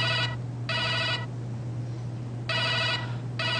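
A phone rings with an incoming call in a repeating pattern: two bursts of electronic trilling, a pause, then the ring starting again, loud and clear over a steady low hum, with no talking.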